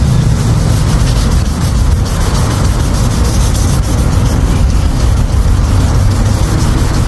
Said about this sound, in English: You can start our wet sanding.